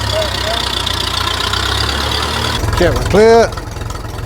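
A Grey Fergie tractor engine idles with a steady low chug, then shifts into a faster rhythmic knock as it is put in gear, close and loud, while someone speaks briefly over it.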